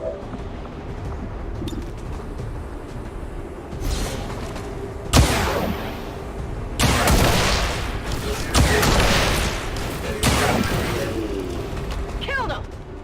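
Pistol shots and impact bursts in the XCOM 2 strategy game, several sharp loud reports spaced a second or two apart, each followed by crashing noise, with a voice talking over parts of it.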